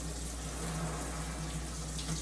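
Water runs steadily into a kitchen sink while a whole chicken is rinsed and cleaned for chicken soup with dumplings, a soft, even hiss for about two seconds with no talking.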